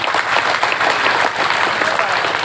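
Steady, dense applause from a large audience at an Islamic religious gathering, a continuous wash of clapping hands filling the whole moment at close range without letup.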